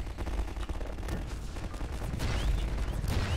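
Continuous heavy video game gunfire from Half-Life 2, dense overlapping shots and impacts with no pauses, loud and close throughout.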